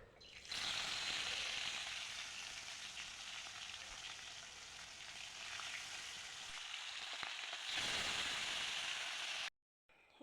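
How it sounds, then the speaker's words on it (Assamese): Bata fish fry in hot oil in a wok with a loud, steady sizzle. The sizzle swells again near the end and then cuts off abruptly. "এতিয়া কেৰাহী পাতি দিছোঁ, তাত তেল দি দিছোঁ। ফ্ৰাই কৰি লওঁ মাছখিনি।"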